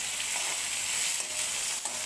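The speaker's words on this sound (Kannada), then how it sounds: "ಸ್ವಲ್ಪ ಕಾಯಿನ ಹುರಿಬೇಕು, ಬಿಸಿ ಮಾಡಬೇಕು" Grated coconut roasting in hot oil in a pan for a Mangalore-style chicken sukka, giving a steady, close, loud sizzle and crackle throughout with no talking.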